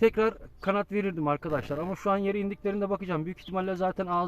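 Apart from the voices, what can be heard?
No everyday noise stands out behind the speech.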